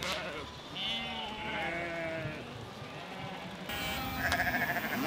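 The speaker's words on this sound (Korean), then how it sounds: "역시나 도로에서 수많은 양떼와 만났다." A large flock of sheep bleats on a mountain road near the Caucasus in Georgia, many overlapping calls near and far, with a low background rumble throughout.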